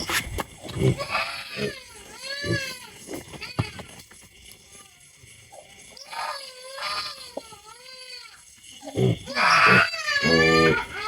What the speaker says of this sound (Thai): ตอนนี้มันเด็กร้องนะทุกคน